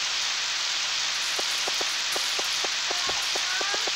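Steady rain pours in the Harvest Moon video game, a dense even hiss throughout with a few faint plinking drops and soft tones in the later half.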